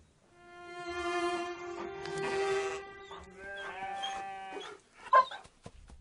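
Sheep in Romania bleat in long, wavering calls, several in sequence and fairly close, with a brief sharp knock near the end amid quiet rustling of animals moving.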